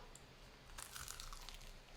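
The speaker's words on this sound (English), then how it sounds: "Listen to that crunch." Crunchy bite into a breaded chicken wing, a quiet burst of crisp crackling and crunching in the middle of an otherwise hushed moment, close to the mic with no speech.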